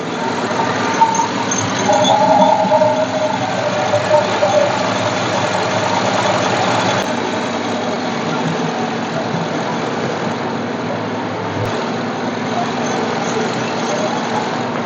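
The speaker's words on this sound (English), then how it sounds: "either the idler or the tensioner's rattling" Idling engine of a 2007 Chevy Tacoma pickup with a rattling idler or tensioner pulley after a radiator swap; a steady close mechanical hum with faint ticking rattle, continuous throughout.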